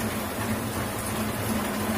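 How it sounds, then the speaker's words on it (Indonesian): Steady rain falling, a continuous dense hiss with a low hum underneath, constant and close, without any voices. "sekarang hujan"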